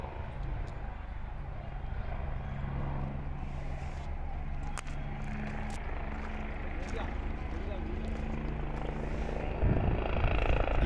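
A helicopter arriving for the Surajkund fair gives a steady, loud rotor and engine roar that continues throughout and swells near the end as it comes down, with people talking under it.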